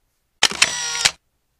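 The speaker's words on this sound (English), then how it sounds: "Camera shutter." A single camera shutter sound effect, a crisp mechanical click-and-whir lasting under a second, isolated against silence.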